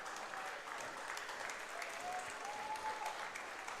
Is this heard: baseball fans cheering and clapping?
yes